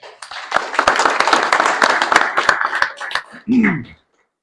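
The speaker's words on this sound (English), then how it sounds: "can we just give a quick round of applause for our sponsors?" A quick round of applause for sponsors at a music-producer panel event fills a few seconds with brisk, dense clapping from a nearby audience, ending abruptly as a voice begins speaking.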